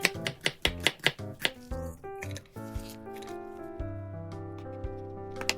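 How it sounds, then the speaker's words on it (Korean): A knife slices a whole onion into thin strips on a cutting board for a chicken breast and spinach curry: a quick run of crisp, close chops early on, then fewer scattered cuts under a soft musical backdrop. "먼저 양파 한 개를 채 썰어주세요 양파 한 개 다 넣을 거라 모두 채 썰어주세요"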